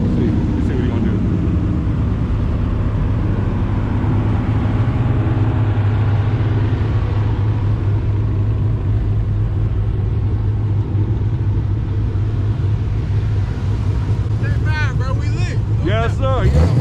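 Mustang engine roaring and revving at a busy car meet, a steady loud rumble throughout with crowd voices over it and a rising whine near the end.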